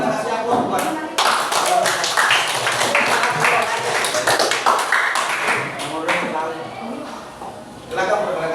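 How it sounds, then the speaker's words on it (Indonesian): A classroom of students claps for the first group, a dense burst of handclaps that swells, holds for several seconds and tapers off, with voices mixed in. "Silakan nomor 1, kita kasih aplaus buat"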